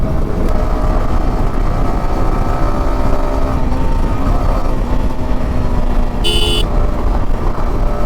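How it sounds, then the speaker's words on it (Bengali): Fast cars roar past on a flyover in light rain, a steady, dense wash of road and engine noise throughout with a brief high horn-like tone near the end. "কি রকেটের মতন গাড়িগুলো যাচ্ছে"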